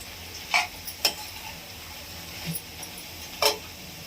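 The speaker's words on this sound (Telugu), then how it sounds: "చూడండి వేగుతూ ఉంది కదా, ఇంకా కొద్దిగా వేగాలండి" Amaranth leaves with chili powder fry in a pan with a faint, steady sizzle, broken by a few brief scrapes and clinks of stirring.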